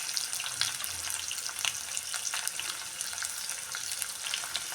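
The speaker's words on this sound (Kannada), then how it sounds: "ಈರುಳ್ಳಿ ಸ್ವಲ್ಪ ಫ್ರೈ ಮಾಡ್ಕೊಳ್ಳೋಣ" Onion frying in oil with cumin and mustard seeds, a dense close crackling sizzle with fine popping spatters throughout the few seconds, and no voices.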